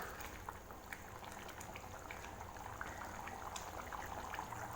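Onion kurma bubbling in an open pan over a high flame, a steady soft simmer with scattered small pops and crackles, fairly quiet and continuous with no voices.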